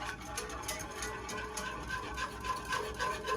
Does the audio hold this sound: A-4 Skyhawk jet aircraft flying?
no